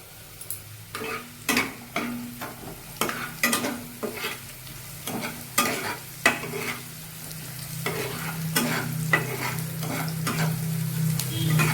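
Noodles fry in a pan for chow mein while a utensil stirs them, with a rhythmic series of scraping strokes over a constant sizzle that swells louder toward the end.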